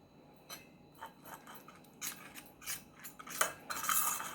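A spoon clinks and scrapes in a bowl while a facial hair removal pack is mixed, quiet irregular taps and scrapes in bursts that grow busier toward the end.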